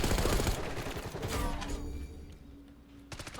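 Rapid bursts from the AMES 85 assault rifle in Black Ops 6, a dense clattering volley loud and close for about a second and a half, then mechanical clicks and a ringing tail before a few more quick shots.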